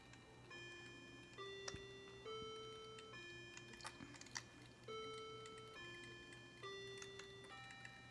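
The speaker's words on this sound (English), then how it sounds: "There's my fancy clock again." A decorative clock in a quiet room, producing soft steady ticking beneath a sequence of sustained chime-like tones that step between pitches every second or so, with no talking.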